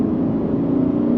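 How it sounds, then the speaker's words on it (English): A V8 car engine revs up from around 3,000 RPM with its intake flapper open, giving a loud, steady, throaty induction roar that holds without a break and with no talking. "That flapper opens up and allows the engine to breathe better, and it gives you that awesome induction noise."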